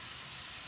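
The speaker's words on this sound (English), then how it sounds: "while the meat is frying" Meat fries in a pan for beef stroganoff, a faint, steady broadband sizzle and hiss with no voices over it.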